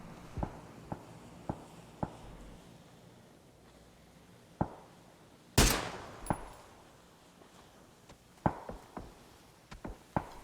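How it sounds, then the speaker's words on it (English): Sharp gunshots crack out from a PUBG pro esports match, scattered single shots and short bursts at irregular intervals, some distant and one loud close blast, with no talk. "FaZe have spotted Senya and are firing shots."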